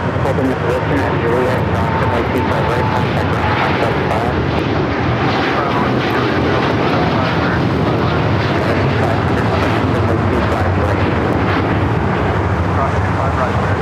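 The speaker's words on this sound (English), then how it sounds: "Next takeoff is United Airlines Flight 801 taking off to Hong Kong on the 787-9 Dreamliner." A United Airlines Boeing 787-9 Dreamliner taking off from LAX, a loud continuous jet-engine roar at a steady level throughout, with voices talking over it.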